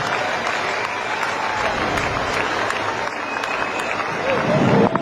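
A cricket crowd at Wellington Stadium applauds and cheers a six from Shahid Afridi against New Zealand, a broad continuous wash of clapping and crowd noise that swells slightly near the end, with a commentator talking over it.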